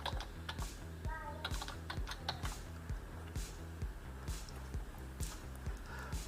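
Computer keyboard keys tapped at an irregular pace while a Gmail password is typed, with crisp close clicks spread over several seconds and no talking.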